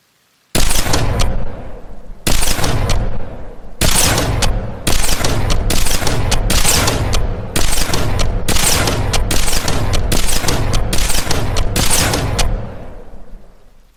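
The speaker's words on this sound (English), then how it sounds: "So we got the beam rifle, and it actually has the sound effects, and it is pretty cool." A Halo beam rifle in an Arma Reforger mod fires in a long run of loud, sharp blasts, spaced in quick clusters with short gaps, each shot crackling and booming before the last tail fades out.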